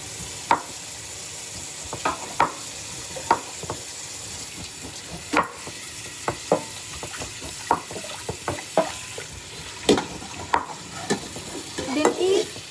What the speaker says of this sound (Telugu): నేను కట్ చేస్తున్నాను.